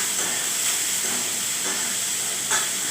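Ground ginger-garlic paste sautéing in a pan gives a loud, continuous close hiss of frying, broken only by a few soft stirring scrapes, with no voices.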